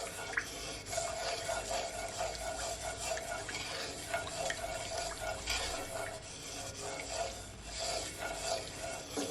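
Sweet chilli sauce and ketchup stirred together in a bowl for chicken wing glaze, a steady soft scraping and sloshing that runs continuously at close range with no talking.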